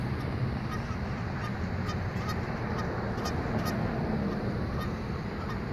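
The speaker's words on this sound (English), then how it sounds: "here are some of the wonderful geese" A flock of geese honks repeatedly over a cover crop field, overlapping calls over a steady low rumble of outdoor background noise.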